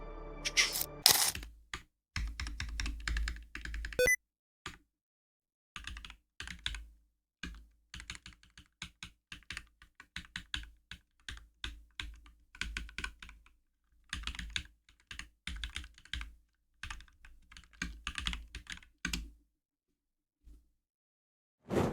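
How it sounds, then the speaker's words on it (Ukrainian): Typing on a KONDOR Starlight magnetic keyboard, a Ukrainian-brand board: bursts of crisp key clicks and clacks in irregular runs, separated by short pauses, close and alone with no speech. "Далі переходимо до тайпінгу цієї клавіатури"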